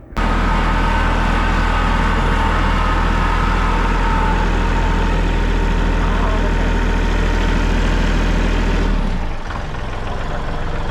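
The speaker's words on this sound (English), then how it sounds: "It was then time to get the tractor out and clean up the mess that I made from cleaning their stalls out." A farm tractor's engine runs steadily at close range, a loud, low, continuous drone that holds for about nine seconds before dropping off in level and settling into a quieter idle.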